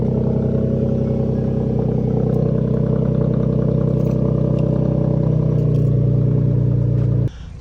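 A Ford F150 with catalytic converters and a true dual catback exhaust with straight pipes idles nearby in a steady, deep, toned-down rumble that holds constant before cutting off abruptly near the end.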